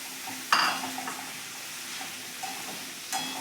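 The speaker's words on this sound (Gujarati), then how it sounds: "આને હજી આપણે બે મિનિટ સાતડવા દઈશું" Peas and cabbage sautéing in a pan for vegetable pulao, a steady quiet sizzle with a sharp clink of a spoon against the pan and a few lighter stirs.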